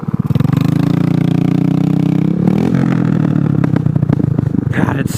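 A used motorcycle with a bent shifter and failing rear brake idles loud and close, a heavy rumbling drone that rises into a rev midway and settles into a rough, pulsing throb.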